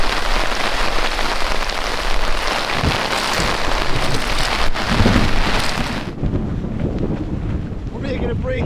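Heavy storm rain pounds a tent in a dense, loud, steady roar, with wind buffeting the fabric, then the downpour shifts to a slightly different drumming texture near the end.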